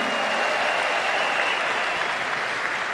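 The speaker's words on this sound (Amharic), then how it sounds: "ባካችሁ አንዴ ለሁለቱም ጭብጨባችሁን" An audience at a ceremony in Los Angeles honoring Prime Minister Abiy Ahmed claps in a sustained burst of applause, a dense, even patter of many hands held at a steady level for the whole stretch.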